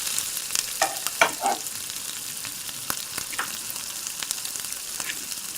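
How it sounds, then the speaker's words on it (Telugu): Oil heating in a kadai on a stove, sizzling steadily with a few sharper crackles and pops early on, close by and with no talking. "నూనె కాగిందో లేదో చూద్దామండి."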